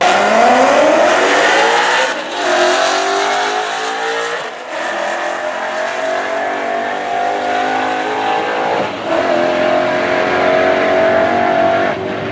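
A McLaren 720S engine screams loudly through rising gear pulls in a drag race, with brief dips at each shift as it keeps accelerating hard.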